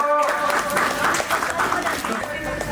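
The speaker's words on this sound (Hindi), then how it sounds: "तालियों का गड़गड़ाहट" A gathering claps at a village workers' honouring ceremony, a steady spatter of applause running under a voice talking over it.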